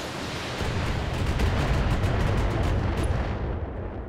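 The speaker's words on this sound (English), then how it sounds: "You'll fire your weapons at this thunderbolt. Fire." Mech weapons fire at a Thunderbolt in the BattleTech video game: a loud, sustained roar of gunfire and explosive blasts fills the whole clip at steady volume, with no voices.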